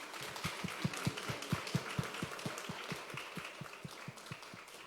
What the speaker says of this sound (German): Einen großen Applaus für euch.